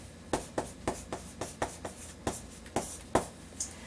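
Marker strokes on a board while English words are written out for a Korean lesson, a run of about a dozen short, evenly spaced squeaky scratches, close and clear with no talking.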